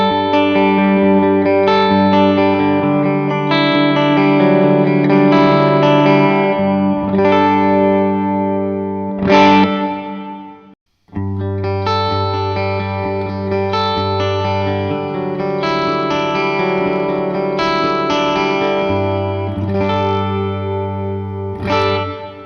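Sustained chords from an electric guitar with distortion and chorus effects, captured by two microphones. One pass is out of phase and a second follows in phase after a brief silent gap near the middle, with each strum ringing out evenly.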